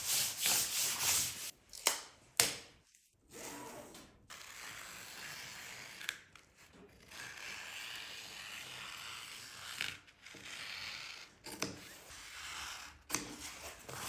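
Scissors cut fabric for a lathe cover: close, scratchy snipping and rubbing strokes in uneven bursts, with short pauses between the cuts.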